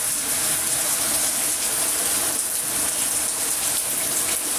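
Night rain falls on plants on a balcony, a steady close wash of patter and splashing drops that keeps up evenly throughout with no voices.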